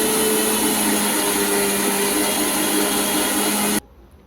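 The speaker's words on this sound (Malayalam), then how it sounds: "അതിനുശേഷം നമുക്ക് മിക്സിയിൽ വെച്ച് അടിച്ചെടുക്കാം കേട്ടോ." An electric kitchen mixer blends a mango cake shake with milk, a loud, steady motor whir running alone for almost four seconds before cutting off abruptly.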